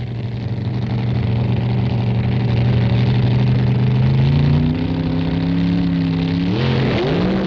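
An AA competition rail dragster and a Cougar funny car race down a quarter-mile drag strip at the 1968 NHRA Nationals, loud sustained engine roar with rising pitch, then a sharp shift near the end.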